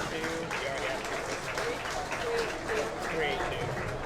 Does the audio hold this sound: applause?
yes